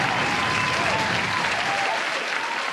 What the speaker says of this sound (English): I'll give you the applause now.